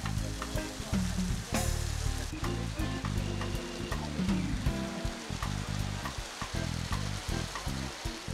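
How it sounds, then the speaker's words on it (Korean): Hot spring water gushes from spouts at the Széchenyi thermal bath in Budapest, a dense, continuous hissing splash that sounds fairly distant and steady, broken only by faint irregular spatters. "시원하게 뿜어져 나오는 온천수를 온몸으로 즐기는 사람들."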